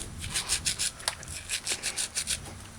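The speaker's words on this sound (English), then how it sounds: "Rosemary. Grind it fine. Just grind it fine." Rosemary being ground fine for a brown stewed soup-bone dish, a rhythmic rubbing grind of about a dozen even strokes, close and steady with no talking.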